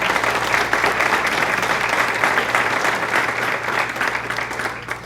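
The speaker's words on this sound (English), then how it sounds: "please give yourselves a huge round of applause" An audience at an education association awards celebration applauds, a full, sustained round of clapping in a large room holding steady throughout before tapering slightly at the end, with a low hum underneath.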